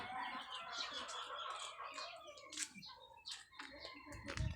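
Fighting roosters and other chickens cluck and chatter nearby in a busy, irregular flurry, with a few sharper calls and faint chirps mixed in.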